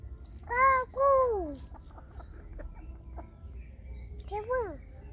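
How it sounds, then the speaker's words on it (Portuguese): A rooster gives a few loud, close, drawn-out calls, two back to back and another shortly after, with a steady high whine and faint background noise. "Olha lá o galo lá, ó."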